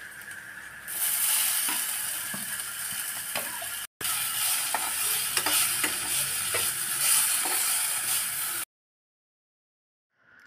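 Vegetables sizzle steadily while frying with paneer in a pan, with a spatula scraping and stirring through the constant crackle, a brief cut midway, and silence at the end.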